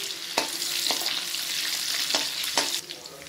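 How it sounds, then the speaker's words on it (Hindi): Red and green chilies frying with garlic in a pan for honey chilli potato, a steady close sizzle broken by a few sharp scraping stirs, with no talking. "हमारे चिलीज और गार्लिक अच्छे से फ्राई हो गए हैं।"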